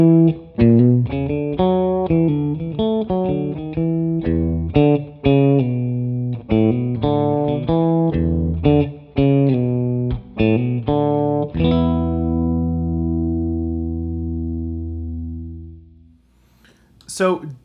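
A PRS Super Eagle electric guitar with all switches off plays a riff of clipped, punchy notes and chords, loud and close, then lets a final chord ring out and slowly decay.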